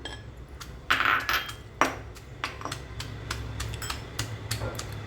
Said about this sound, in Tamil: இந்த மாதிரி வேக வச்ச கடலை இந்த மாதிரி ஒன்று ரெண்டுமா இப்படி இடித்து வச்சுக்கலாம்